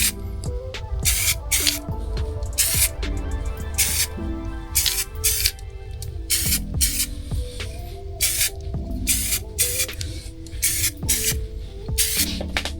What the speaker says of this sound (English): we'll test the nozzle. And there we go, it's coming out nice